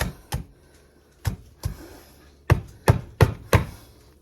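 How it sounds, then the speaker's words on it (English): Four apples being chopped on a cutting board, their peels left on, with eight sharp knife thuds landing in uneven pairs and clusters, loud and close, no voices. "we're gonna chop 4 apples"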